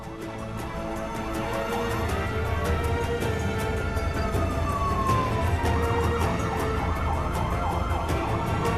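Police cars escort a heavy truck carrying a pharaoh statue at a steady 20 km/h, their sirens wailing loudly over a rumbling engine while a rising and falling tone sweeps back and forth.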